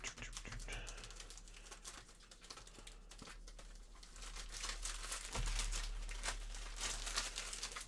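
Pokémon trading cards are shuffled by hand in a continuous papery riffling and crinkling that keeps going close up, with brief flutters and no talk.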